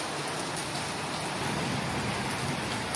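Heavy rain pours down steadily in a dense, even hiss that fills the whole stretch, loud and close with no pauses or other sounds.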